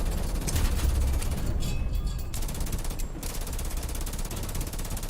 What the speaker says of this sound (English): Hit him again with the MG34.